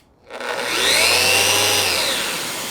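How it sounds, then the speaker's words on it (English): A Festool dust extractor switches on automatically with a connected power tool in a woodworking shop, its motor whine spinning up quickly and holding a loud, steady rushing hum. "When you turn it on, when it's plugged in, it automatically will turn your vacuum on"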